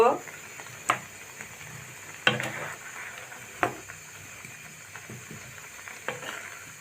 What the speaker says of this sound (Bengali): এগুলোতে ভালো করে নেড়ে চেড়ে দিব